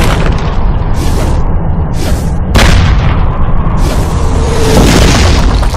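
Russian anti-tank guns firing on Tiger tanks in battle, loud heavy booms repeating over a dense continuous roar, with a sharp crack in the middle, close and powerful.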